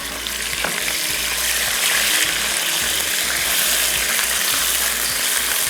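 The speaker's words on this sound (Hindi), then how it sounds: "और चिकन को खूब अच्छे से कर लेना फ्राई।" Chicken frying in a handi, a steady, dense sizzle of hot oil filling the whole stretch, loud and close with faint stirring clatter beneath and no talk.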